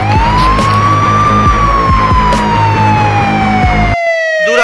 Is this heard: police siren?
yes